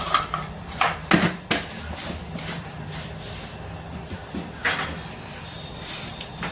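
Metallic clanks and knocks as a pan is set on a kitchen stove to warm roasted white sesame seeds, a few sharp clatters early on and another later, over quiet room noise.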